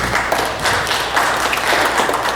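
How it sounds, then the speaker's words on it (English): Church congregation clapping hands during a Sunday service sing-along, dense crowd applause with a low hum underneath, continuous and fairly loud, no speech. "clap your hands, yes."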